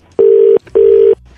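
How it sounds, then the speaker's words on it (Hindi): Two identical, loud, steady telephone beeps of about half a second each, separated by a short gap, sound after a call drops, followed by quiet line noise. "फोन कट गया था लेडीज"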